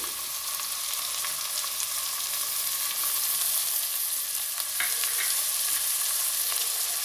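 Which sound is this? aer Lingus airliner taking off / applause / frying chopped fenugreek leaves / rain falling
frying chopped fenugreek leaves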